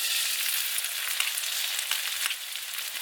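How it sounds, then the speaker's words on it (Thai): Hot oil sizzles and crackles steadily as chili and garlic fry in a hot wok, a dense hiss with no voices. "กระทะร้อนก็จะเอาเอ่อ พริกกระเทียมลงนี้ไปผัดน้ำมันให้หอมครับ"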